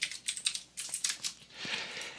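Computer keyboard clattering as code is typed for an MMO game project, bursts of quick close keystrokes with brief pauses, ending in a softer run of keys.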